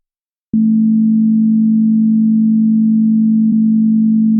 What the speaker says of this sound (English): the modulator interacts with the carrier to generate new frequencies called sidebands